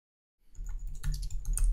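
Fingers tap steadily on a computer keyboard, a close run of quick clicks and key presses starting after a short silence, with no voices.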